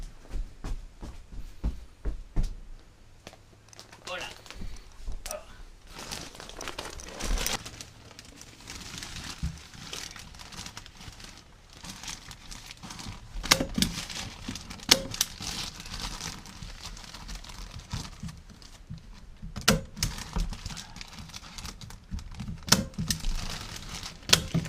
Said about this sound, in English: I'm doing a cutting and Charles is stapling them up.